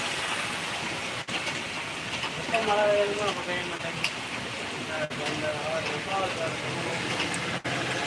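Heavy northeast monsoon rain in Virudhunagar district makes a steady, broadband hiss that stays at an even level throughout, with faint voices murmuring beneath it.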